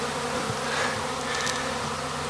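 Honeybees buzz continuously around a hive left almost empty after the swarm absconded, a steady, close drone with slight swells and no voices.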